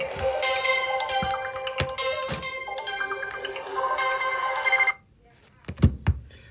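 A mobile phone rings during a classroom geometry lesson, a steady electronic ringtone with repeating tones running for several seconds, cut by a few knocks and thumps, then stopping abruptly before a couple of louder clunks.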